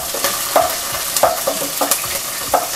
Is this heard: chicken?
no